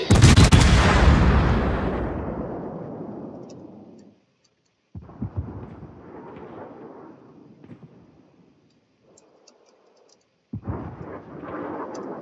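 Naval artillery booms in a video game battle, a huge close blast rolling into a long decaying rumble, followed by further rumbling bursts of gunfire separated by short silences.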